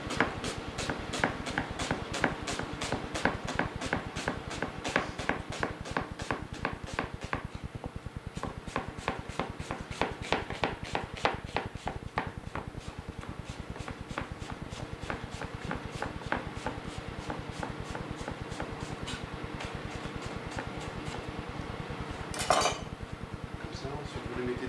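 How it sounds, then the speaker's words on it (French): Rapid, steady knife strokes finely slicing onions on a cutting board, dense and rhythmic throughout, with a brief clatter near the end. "il faut tailler les oignons très fins comme ça."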